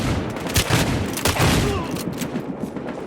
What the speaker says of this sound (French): Il tire assez vite ce fusil à pompe